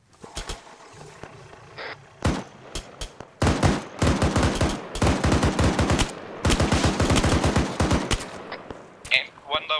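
Machine gun fire from a vehicle gunner in the military shooter ARMA 3 during a night operation, loud, close, rapid bursts repeated over several seconds with short pauses, voices talking briefly between them.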